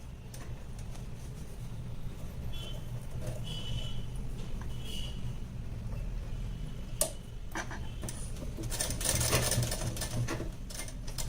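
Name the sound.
sewing machine stitching a blouse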